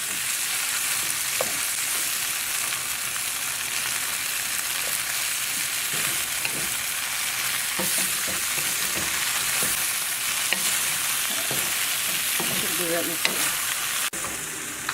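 Shrimps sizzling as they stir-fry in a pan, a loud unbroken hiss of hot oil with occasional utensil scrapes and taps, close by and sustained, no voices.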